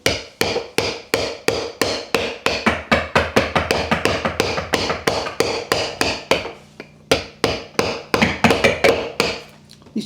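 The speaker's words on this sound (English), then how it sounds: "Watch Dave cut off the Kento mark here." Hand-cutting a woodblock print with a chisel and mallet, dozens of crisp, close taps in a steady rhythm, briefly pausing before resuming, with a low hum in the background.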